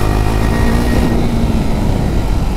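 A KTM RC 390 motorcycle setting off at full power, a loud continuous engine roar with a rising tone that fills the whole clip, close to the listener, with no voices.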